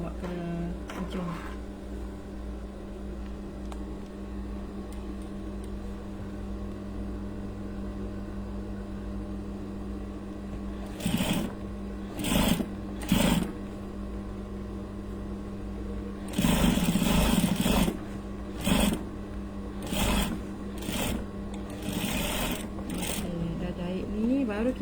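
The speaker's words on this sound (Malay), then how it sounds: "Baru kita jahit tepi." A sewing machine stitches the edge of a ruffled curtain panel in a curtain shop, running in several short bursts and one longer run of rapid buzzing stitches over a constant background hum, fairly close.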